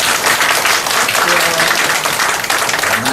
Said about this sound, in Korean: 우리 박수 한번 해드리죠